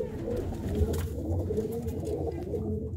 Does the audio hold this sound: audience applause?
no